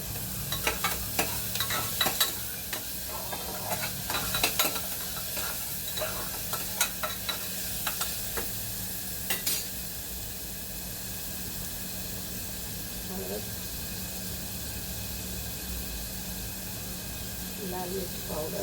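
Chopped tomatoes fry and sizzle in a hot pan for a Sunday misal, with a steady hiss and repeated scraping clicks of stirring that are busiest in the first ten seconds, while a voice talks faintly in the background.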